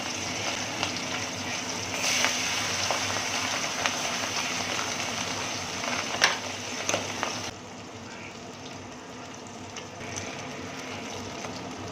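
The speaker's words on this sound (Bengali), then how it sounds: "এইভাবে আমি সমস্ত মাছের মাথাগুলোকে ভেজে নেব" Salted, turmeric-rubbed fish heads fry in hot oil in a wok for a traditional muri ghonto, giving a continuous close sizzle and crackle with a few sharper pops, easing somewhat quieter near the end.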